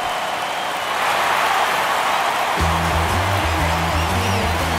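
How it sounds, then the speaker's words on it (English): A home crowd roars in the MLB The Show 23 baseball game after a home run, a dense, steady wash of stadium cheering that swells after a second, with organ-like music notes entering partway through. "That fires up the home crowd"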